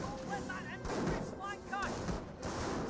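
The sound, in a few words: infantry rifle gunfire in Company of Heroes video game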